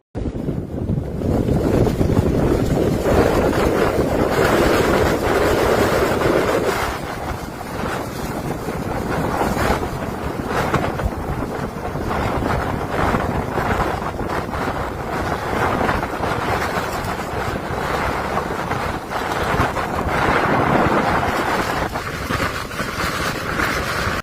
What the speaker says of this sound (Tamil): இந்த தாய்லாந்து அப்படிங்கிற நாட்டில் ஒரு பெரிய சூறாவளி.